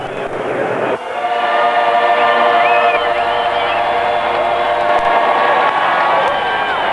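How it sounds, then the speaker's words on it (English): Loud, sustained roar of an A-10 jet from the 103rd Fighter Wing, Connecticut Air National Guard, flying over the Dover Winston Cup race, swelling after a brief dip and holding steady over crowd noise. "the A-10 from the 103rd Fighter Wing of Connecticut Air National Guard."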